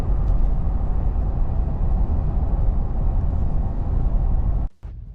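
A 2020 Ford F250 Lariat 4x4 diesel pickup drives at about half throttle, producing a loud, steady low rumble of engine and road noise from inside the cab that cuts off abruptly near the end.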